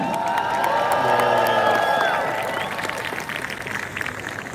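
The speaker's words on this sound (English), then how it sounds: "give a louder round of applause to her" Crowd at a support-Ukraine rally in London claps and cheers, with loud whoops and shouted voices rising over the applause before it eases into steadier clapping.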